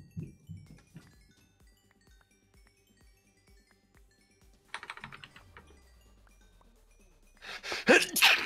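A single sharp sneeze bursts out near the end after a gasping intake, following a stretch of quiet computer keyboard typing and clicks.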